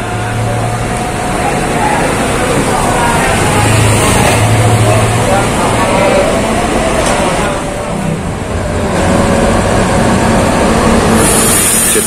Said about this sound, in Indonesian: Jet Bus HD punya Akas Asri ini, masih cakep ya, single glass.